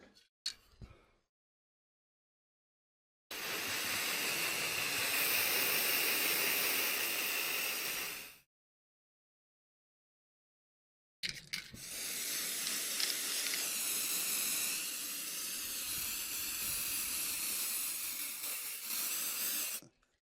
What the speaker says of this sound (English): I'm going to spray this up with matte varnish.